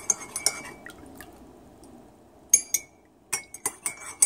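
A spoon stirs a turmeric drink in a glass, tapping and clinking against the sides in scattered bright strikes, with a quiet pause between two bursts of clinks.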